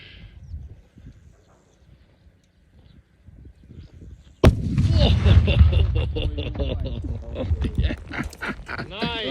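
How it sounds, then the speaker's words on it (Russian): A TNT explosion bursts in suddenly as a loud, broadband blast about halfway through after a quiet stretch, followed by sustained rumbling and noise layered with people talking. "Взрыв прошел удачно, так что поздравляю."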